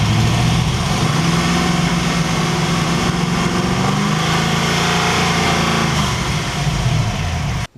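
Engine running steadily after a test fire on a car fitted with a Holley 36-1 crank trigger replacing a dual sync distributor, a loud, rough idle with a continuous rumble throughout, cutting off abruptly at the end.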